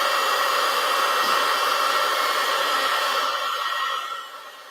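A hair dryer blowing on a craft project, a loud, steady whirring hum throughout that drops away near the end as it is switched off.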